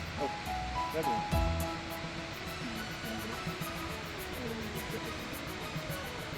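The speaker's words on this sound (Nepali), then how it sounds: "यो त झरना निकै सुन्दर माथिबाट धेरै तलसम्म खण्ड खण्ड गरी झरेको" A tall waterfall in the Rolwaling Valley drops in stages from high above, a steady roaring rush heard close, with a brief low thump near the start and no voices.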